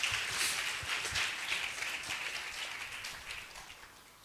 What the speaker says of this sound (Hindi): ताली बजाओ भाई जोर से